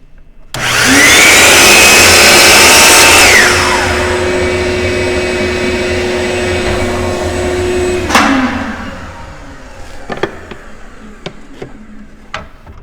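A power saw whines loudly as it spins up and cuts wood for a jewelry box, then drops to a steadier lower hum before stopping, followed by scattered light clicks and knocks.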